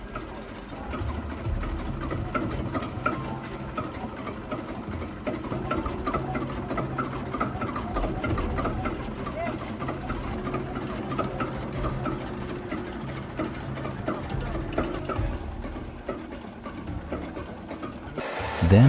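A rare old steam engine running with a continuous low mechanical rumble and fast ticking chatter, steady and fairly loud for nearly twenty seconds, ending in a brief louder burst.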